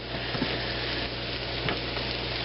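Mushrooms fry in a pan with bacon and bell pepper, giving a steady close crackling sizzle with a few small pops and stirring scrapes.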